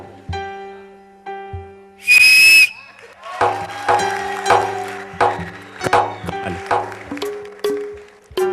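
A harmonica imitates a pressure cooker on a gas stove, first with a few short soft puffs, then a loud, shrill, whistle-like blast, followed by a run of bright reedy wavering notes.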